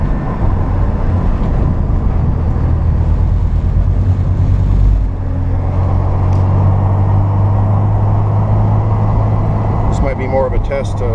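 A 1986 Porsche 944 non-turbo cruising on the road, its steady low engine drone and road rumble constant throughout, with wind and cabin noise layered on top and no talk.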